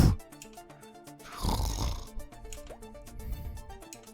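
A witch's snoring rumbles through a fantasy one-night quest: a slow, grunting, piglike snore rising to a loud, rough peak, then trailing off, set against faint background music.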